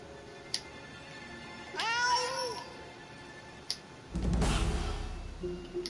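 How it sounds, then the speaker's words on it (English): A cat in the video game South Park: The Stick of Truth gives two drawn-out meows, the second louder and harsher, between a few short clicks against quiet background noise. "I don't even know if that's a female cat or a male cat"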